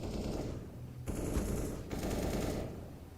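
Gunfire through a wall during a Counter-Strike match, two bursts of rapid automatic shots, the second after a brief gap, moderately loud and slightly muffled.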